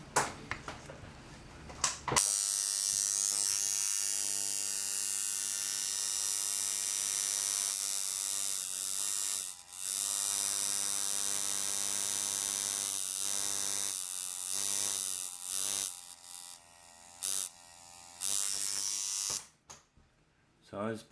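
A coil tattoo machine runs at high voltage with a steady, loud electric buzz and hum that holds for most of the span, briefly cutting out and restarting in short bursts near the end.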